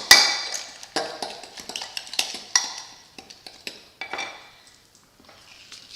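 Sweet chili sauce being stirred into a meatloaf mixture in a bowl, with repeated clinking and scraping of a utensil against the bowl in an irregular rhythm, close and fairly loud at first, then tapering to softer taps.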